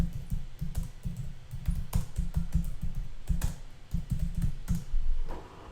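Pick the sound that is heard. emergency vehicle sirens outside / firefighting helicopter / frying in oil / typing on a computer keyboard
typing on a computer keyboard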